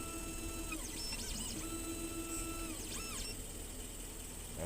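Key cutting machine running clamp checks while cutting an aluminum smart key for a 2012 Range Rover Sport, giving a steady mechanical whir with rising and falling motor sweeps, heard alone at close range.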